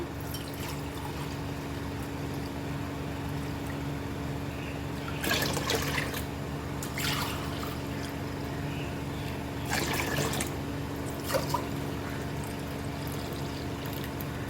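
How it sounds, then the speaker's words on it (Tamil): Ginger juice is poured into a tumbler in a few short, soft splashing pours, separated by pauses over a steady low background hum. "இப்போ பார்த்திங்கன்னா இஞ்சி சாறை ஊற்றிக்கலாம்"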